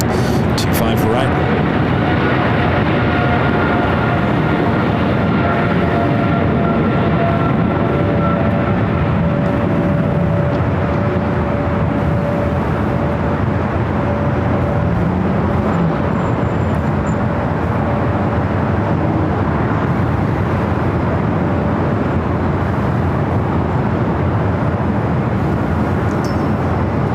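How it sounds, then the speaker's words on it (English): A Boeing 777 thunders down runway 25 right at LAX on its takeoff roll, a loud, broad jet roar that builds and persists for the whole stretch while a voice talks over it. "Air 777 now rolling it down."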